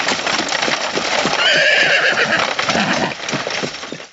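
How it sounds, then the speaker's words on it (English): Horses pulling the bat coach neigh and whinny loudly and close, with steady clip-clopping hooves running underneath throughout and no voices. "is driven in the back of the bat coach, which Alfred is driving with the horses."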